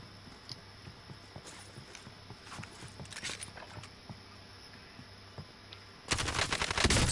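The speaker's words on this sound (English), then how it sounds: "He's shooting at me." Rapid gunfire in an online PS4 battle royale shooter comes as quick, fairly faint sharp pops in uneven bursts, and a louder, denser rattle of shots breaks out near the end.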